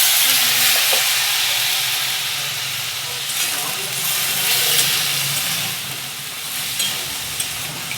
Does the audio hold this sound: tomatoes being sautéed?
yes